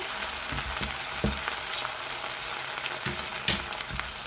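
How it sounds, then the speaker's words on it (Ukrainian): Mixed vegetables frying in a pan for a noodle, vegetable and meat dish, a constant dense sizzle heard up close, broken by a few soft low bumps and stirring knocks. "ось так виглядає гарно наші просмажені овочі."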